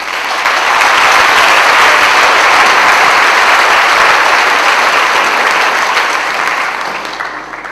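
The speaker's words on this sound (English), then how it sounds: "Will you give the Lord a clap of praise for him?" Sustained loud applause from a congregation at an Australia Day prayer gathering, a thick wash of clapping that swells quickly and holds steady before tapering off at the end.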